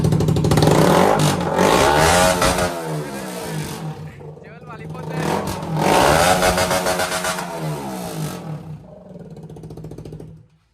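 A KTM RC 200 BS3 motorcycle with no muffler or silencer, revved hard in repeated loud, raw bursts with a dip between them, then cut off abruptly, close by.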